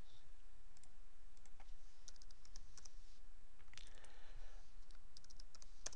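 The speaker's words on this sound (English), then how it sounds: "start typing in the information that I want" Keys clack on a computer keyboard in quick, uneven bursts, close and quiet, with no voices.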